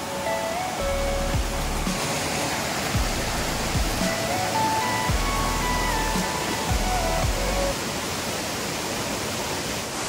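Steady, dense roar of the Amboli waterfall in the Konkan forest, an unbroken rushing wash of falling water that holds an even level throughout, with a few soft low thuds beneath it.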